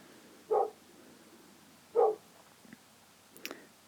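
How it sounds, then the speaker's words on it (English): A pet dog barks indoors in a quiet room, two separate single woofs about a second and a half apart, then a soft yip and a faint whimper near the end. "Sorry about the dog barking."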